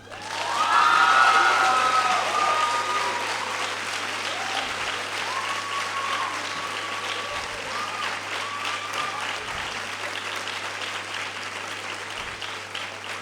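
Audience at a school academic and service awards ceremony applauding for the class of 2022 champions, a full sustained round of clapping that swells quickly at first, then settles into a steady wash with faint voices mixed in.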